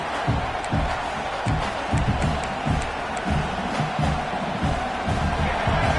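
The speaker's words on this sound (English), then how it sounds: "Listen to the crowd energy here in the early going." A large stadium crowd at a college football playoff game involving Michigan roars in a steady, distant-sounding wash of cheering, with low rhythmic thumps pulsing underneath throughout.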